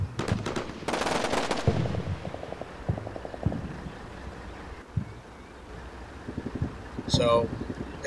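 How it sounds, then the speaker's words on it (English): AK rifle fire in the Combat Mission Shock Force game: several short, moderately distant bursts of rapid gunfire amid steady ambient wind noise. "So now I hear a burst of AK fire"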